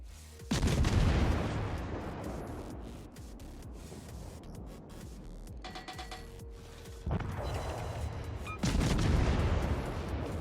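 Naval guns boom in World of Warships from the Tier V American cruiser USS Omaha and nearby ships firing HE shells. Heavy blasts land in a few separate bursts over a lower rumble of mechanical game noise.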